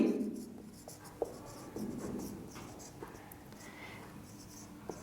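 Pen or pencil scratching across paper while math is written out by hand, soft intermittent strokes close by with brief taps and pauses, no voices.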